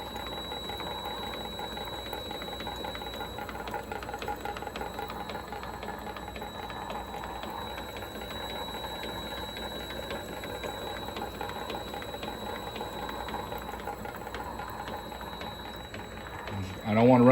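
A Vevor machine with a reinstalled tension pulley runs at low RPM, giving a steady, even mechanical whir with a faint ticking rhythm and a thin constant whine, ending in a brief louder knock.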